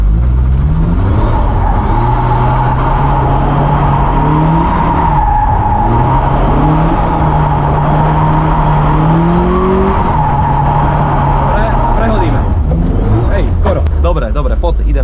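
A car drifting at a driving school, engine revving hard and steady with pitch rising and falling as the throttle changes, tires squealing through the slides, loud and close from start to end, with a voice speaking over it.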